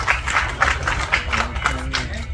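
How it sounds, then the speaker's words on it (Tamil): Audience clapping greets a music director at an event stage, a steady rhythm of claps at close range over a low crowd murmur, with a faint voice briefly under it. "ஒரு பலத்த கரகோஷத்தோடு நம்ம சேர்ந்து வெல்கம்"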